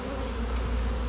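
Honeybees swarm around an opened hive during a split, a dense steady buzzing hum close to the microphone, continuous and unbroken for the whole moment with no voices.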